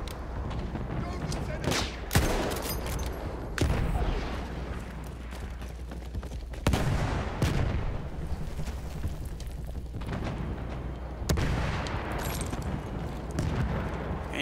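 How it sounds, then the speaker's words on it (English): Gunfire and explosions roar through a Battlefield 1 single-player campaign battle, with loud booming blasts and rattling shots recurring every few seconds over constant heavy combat noise, while someone talks over it. "It's hard to aim with all these explosions."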